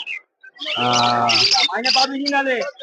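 Green Fischer's lovebirds at a bustling bird market give harsh, rapid squawks and chirps in close bursts, loud and near, with a brief gap between calls.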